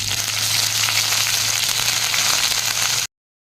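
Onion paste hits hot oil already tempered with cumin for a Bengali egg-and-spinach dish, giving a loud, steady, close sizzle that runs unbroken and then cuts off abruptly just before the end.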